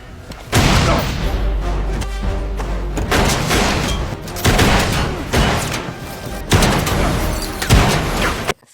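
Loud, booming gunshots from a large handgun crack repeatedly in bursts, heavy and close, mixed with dramatic film-style effects and rumbling, from Captain America: Brave New World.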